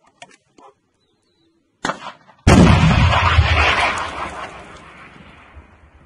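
An artillery gun fires a single shot in the war in Ukraine: a loud, close blast after a few faint sounds and a short silence, followed by a long rumbling decay.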